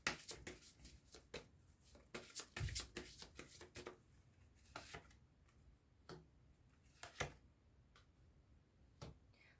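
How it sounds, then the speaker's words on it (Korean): Tarot cards are shuffled and drawn in a quiet room, with soft riffling and sharp, scattered snaps and taps of cards at close range. The sounds are faint and irregular, and no one speaks. "그럼 조언점 카드도 뽑아보도록 할게요"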